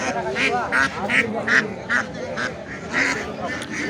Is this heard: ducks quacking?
yes